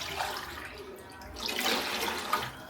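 Water poured into a cooking pot for coconut milk rice, a continuous close splashing gush that swells toward the end, with no talking.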